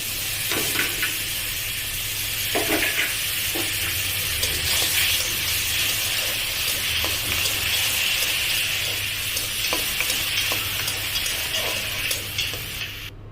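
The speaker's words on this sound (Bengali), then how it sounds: "আমার এখানে আলুগুলো ভাজা হয়ে গিয়েছে কিছু শুকনা মরিচ ভেজে নিয়েছি সাথে চিংড়ি মাছগুলো ভাজা হয়ে গিয়েছে" Potatoes, dried red chilies and shrimp sizzle steadily in a hot pan, with a continuous frying hiss and occasional soft scrapes of stirring throughout.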